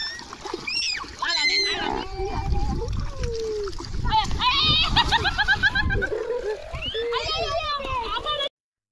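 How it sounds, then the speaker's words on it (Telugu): Splashing from people swimming in a village pool, choppy water bursts under lively children's shouts and chatter, with bird coos in the background. "అఖిల చూడండి అసలు ఏ విధంగా స్విమ్మింగ్ చేస్తున్నదో."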